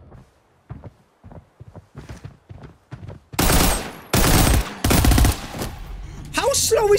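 A voice speaks in short phrases over a quiet background, then loud, close automatic gunfire rips out in several sustained bursts in the Arena Breakout shooter game.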